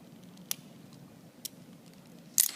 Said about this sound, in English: I am going to now cut a scoop out of the back of the quill